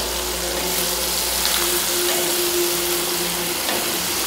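Crushed onion frying in a pan for a chicken dish, a loud, even, hissing sizzle that holds steady throughout with a faint hum underneath and no voices.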